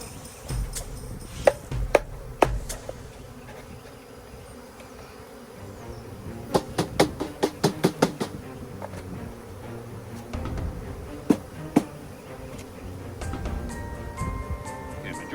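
Honey bees buzz steadily around an open package during a hive installation outdoors, a continuous close insect drone broken by a few sharp clicks and knocks.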